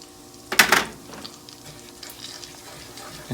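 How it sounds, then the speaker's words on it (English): Flour sizzles as it is added to melted butter in a pan, a short loud burst of frying hiss near the start that fades into a quiet kitchen background, the roux to be stirred afterward. "it should sizzle when it goes in"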